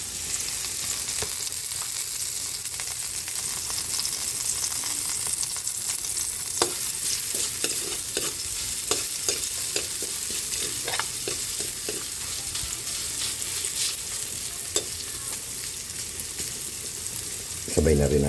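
Onion sizzles in a hot pan for beef putchero, with a steady frying hiss and repeated scraping stirs of a utensil throughout, close and continuous.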